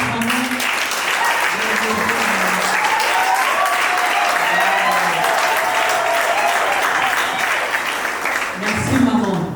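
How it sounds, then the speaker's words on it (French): Wedding guests at a civil ceremony break into sustained, steady applause for the bride's mother, a dense roar of clapping that fills the whole stretch with a few voices faintly calling out underneath. "Est-ce qu'on peut applaudir maman?"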